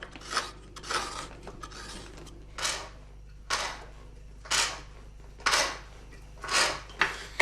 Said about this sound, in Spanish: Marcel va vaciando y agrandando pacientemente los 2 agujeros hasta dejar hueco el interior